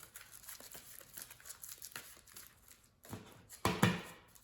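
Game cards from a Marvel Champions-style encounter deck discard pile being shuffled back together, a quiet papery riffling and crinkling that runs throughout, ending in a couple of louder bursts.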